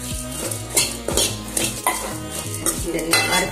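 Almonds and cashews dry-roasting in a pan as they are stirred, giving repeated scraping sweeps and light metallic clinks at a steady rhythm, close and clear with no speech.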